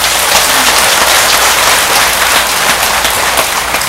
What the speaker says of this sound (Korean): 박수 한번 보내드리세요.